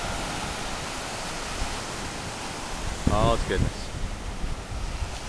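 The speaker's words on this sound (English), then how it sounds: "And there's the ocean." Atlantic ocean waves give a broad, steady roar of surf mixed with wind buffeting the microphone, and a voice speaks briefly over the noise midway through.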